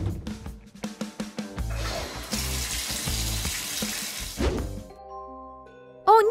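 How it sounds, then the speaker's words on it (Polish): Shower water running in a bathroom, a loud, steady hiss of spray that starts after some knocks and clatter, then cuts off before a short bright tone. "Nareszcie mogę wziąć prysznic."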